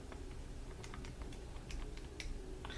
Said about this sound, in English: I then type in 78 divided by 12 in the calculator